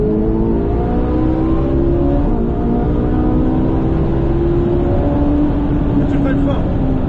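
Ferrari 458 Italia accelerating on a race circuit, a loud close engine drone whose pitch climbs steadily while an instructor talks over it throughout.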